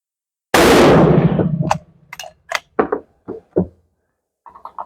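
A single loud rifle shot from an Enfield No5 Mk1 firing Hornady 150 grain soft-point ammunition, a sharp blast with a decaying tail, followed by several shorter clicks and knocks of handling.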